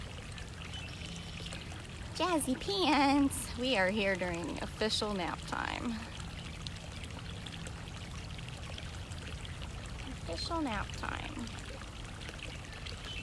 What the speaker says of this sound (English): The water sound you hear are her swimming pools.